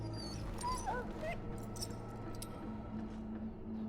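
Dog whimpering in the video game Dragon Age Origins, short high whines and yips near the start over a steady bed of game music and ambience, with a low tone entering later.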